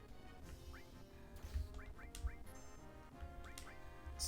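Weird chicken-like creatures in the Final Fantasy VII video game give short, faint quacking squawks, scattered in quick pairs over a low rumbling game soundtrack.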